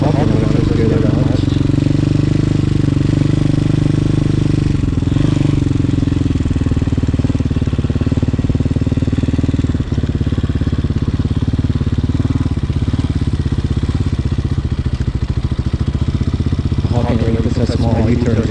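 A Hawk 250cc street-legal dirt bike engine runs loud and close in first gear through slow U-turns, with a steady throbbing drone and occasional clatter while a rider talks over it.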